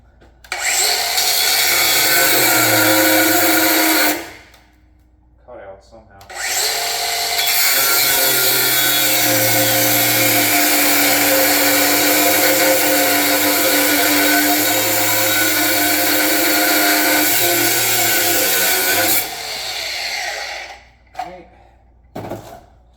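A DeWalt DCG440 6-inch grinder running on a 12Ah Flexvolt battery whines loudly and steadily nearby in two long runs, each spinning down before the next start, with brief short bursts at the end.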